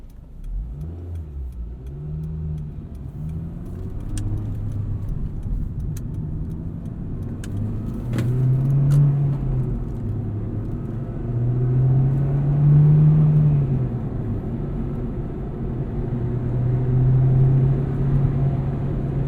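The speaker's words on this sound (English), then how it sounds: "hope you enjoyed this quick drive in this Acura RSX Type S" A 2006 Acura RSX Type-S with a 6-speed manual transmission is driven, heard from inside the cabin as a continuous engine drone that rises and falls in pitch through several rev swells and gear changes.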